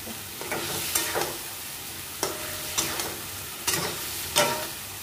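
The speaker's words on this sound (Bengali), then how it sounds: "মশলাটা দেওয়া হয়ে গেছে, এবার বেশ করে এটা দিয়ে কষাতে হবে।" A spoon scrapes through elephant foot yam curry with spices as it sautés in a pan, in regular strokes about once a second over a constant soft sizzle, with no voices.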